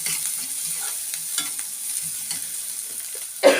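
Onions fry gently in a pot for lentil soup, a soft steady sizzle with faint stirring scrapes, ending in a louder clatter near the close.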